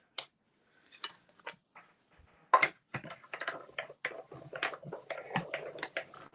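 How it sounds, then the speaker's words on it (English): A Stampin' Cut and Emboss die-cutting machine presses a 3-inch die through paper, giving a series of short clicks, crunches and snaps that start sparse and grow denser, close and moderately quiet, with no talking. "let's bring in our Stampin' Cut and Emboss. And let's cut that out."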